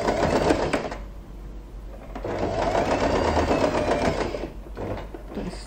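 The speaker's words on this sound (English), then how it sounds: "we are going to sew this part. Just sew it where it is." A sewing machine runs in steady rapid bursts while stitching fabric for a ruffled scrunchie with elastic inside. It pauses briefly twice, then picks back up, loud and close, with no talking.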